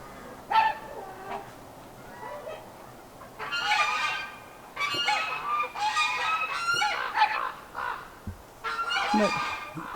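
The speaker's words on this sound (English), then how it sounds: "But all the ducks and the Mr. John Snow and one of his girls are right here on the porch." Ducks and other farm birds honk and squawk in several loud bursts near a farmhouse porch, alternating with quieter gaps.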